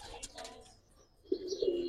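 Giribaz pigeons coo close by, with a soft rolling coo near the end following quieter bird sounds and faint background noise.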